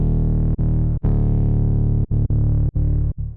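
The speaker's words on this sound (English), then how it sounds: "I just added a little bit of reverb automation in here with this reverb" A deep, sustained synth bass plays in rhythmic bursts with brief gaps between notes, ringing with a distorted, heavily effected tone from reverb throw automation and no voices.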